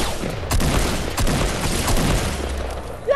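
A sniper rifle fires in Fortnite, a few sharp cracks over dense background battle noise and scattered gunfire.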